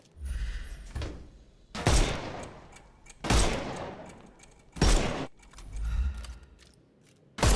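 Bursts of gunfire in Sherlock Holmes Chapter One strike enemies' armour in loud, close volleys, four or five heavy clusters separated by short pauses, each with a sharp metallic crack.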